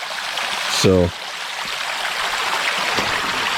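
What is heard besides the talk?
creek water flowing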